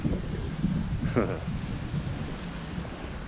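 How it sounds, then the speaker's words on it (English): Rain falls at a coastal fishing spot on New Year's Eve as a steady wash of hiss with a low rumble beneath it and one brief brighter rustle near the middle, with no voices. "It's bloody raining again"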